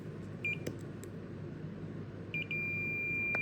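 Short high electronic beeps from a multimeter continuity test sound twice, then a steady continuous tone takes over, over a low background hum.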